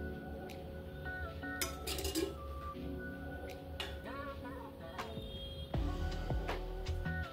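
A pan is set on the stove and oil is added: quiet metallic clanks and scattered clinks of pan and utensils in a kitchen, with a slightly louder knock near the end.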